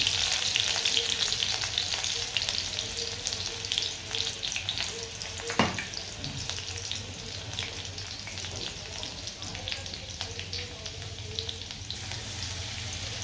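Finely chopped green chillies fry in hot oil with cumin, a dense continuous sizzle and crackle filling the pan, broken by one sharp clink of a utensil midway; no voice is heard.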